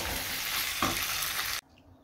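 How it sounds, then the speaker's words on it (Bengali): Hot water poured into a pan of braised chicken sets off a loud, broad sizzle and bubbling hiss that runs steadily and then cuts off abruptly, leaving near silence. "গরম জল হয়ে গেছে, এবার চিকেনে ঢেলে দেবে।"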